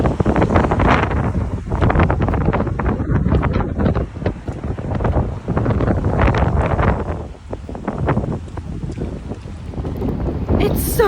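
Strong wind buffeting the microphone outdoors in New York City, a loud continuous rumbling roar that gusts and swells throughout, with someone talking beneath it.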